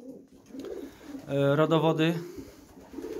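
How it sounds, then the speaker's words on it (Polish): Pigeons in a pigeon loft give a brief, rich coo in the middle of the clip, set between quiet speech from a nearby man. "No przepiękny gołąb"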